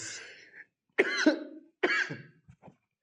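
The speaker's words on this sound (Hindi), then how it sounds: "थोड़ा गला खराब है यार, खांसी आ रही है" Three coughs from someone with a sore throat, dry and throaty, spaced out with short silences between them, close to the microphone.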